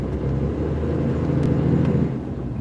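A hotshot car-hauling truck engine idling and pulling low after a float shift into first gear, a steady deep rumble with a faint whine, close and loud from inside the cab, brief and without speech.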